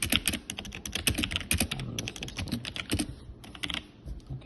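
Rapid clicking of computer keys as someone types out a note about a forex chart pattern, a steady run of close, crisp keystrokes with brief pauses, no voice.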